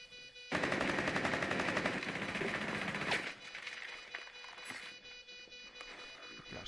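Rapid automatic gunfire rattles loudly for about three seconds in a competitive first-person shooter match, then gives way to quieter scattered game sounds.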